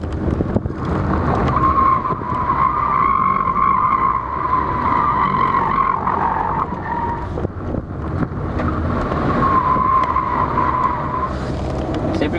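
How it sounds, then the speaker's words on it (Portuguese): A car skids through a curve on a training course during a defensive driving class in Rolim de Moura, its tires squealing in a sustained, loud tone for several seconds along with engine and road noise. "Você vê que o veículo está escorregando"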